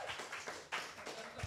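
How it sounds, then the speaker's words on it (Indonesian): A congregation claps during a Sunday church worship service, giving brief rhythmic applause at moderate distance with no clear talk over it. "Tepuk tangan dong."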